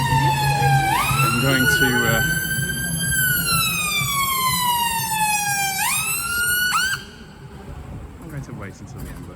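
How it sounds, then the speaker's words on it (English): An ambulance siren wails up and down loudly as it passes along an Edinburgh street, its pitch sweeping through several cycles before cutting off, with traffic noise and a brief spoken voice underneath. "wait until the ambulance's gone by"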